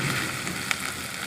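Garlic paste hitting onions fried until reddish, producing a steady, close, dense frying sizzle with a faint click partway through, no talk.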